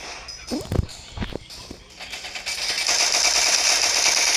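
Quick, sharp video game gunshots crack out amid excited shouting, followed by a sustained roar of loud gunfire and noise.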